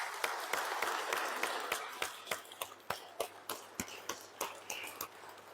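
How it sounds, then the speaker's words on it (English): A church congregation applauds its volunteers, starting as a dense wash of clapping and thinning into a slower run of distinct, fairly loud claps over about five seconds, with no voices heard. "to give them a loud applause"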